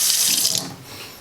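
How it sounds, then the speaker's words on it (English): Cold water gushes from a kitchen sink tap in an off-grid cabin, a loud steady splashing that eases off after the first half. "when we turn this to the right, the cold water should come out"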